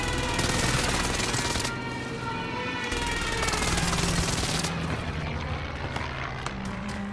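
Airstrike gunfire run with sustained heavy automatic fire, loud and continuous, roaring in long bursts that break off briefly twice before resuming, with no speech.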